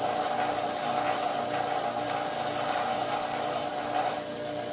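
Bench grinder smoothing a rough spot on fired pottery after kiln unpacking, a loud steady whining rasp held continuously, then dropping off slightly near the end.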